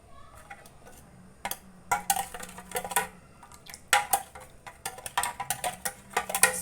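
A spoon stirs basil seed sharbat in a glass or bowl, clinking against the sides in repeated quick taps and scrapes, close and fairly loud, with no talking.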